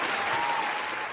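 Brief burst of crowd applause at a holiday fundraiser, a steady wash of many hands clapping at moderate volume, with no voices over it.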